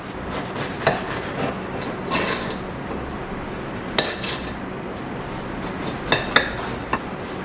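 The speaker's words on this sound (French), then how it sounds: "On s'en découpe quelques tranches et on regarde ça de plus près." A knife slicing a quatre-quarts pound cake, soft rasping strokes with a few sharp clicks of the blade against a board or plate, close and quiet, no talking.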